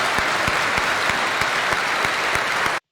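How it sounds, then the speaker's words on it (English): Audience applause for the security staff and police officers, a dense steady clapping that holds for about three seconds at close range with a few sharper claps standing out, then stops abruptly. "Let's give a quick round of applause to the security here,"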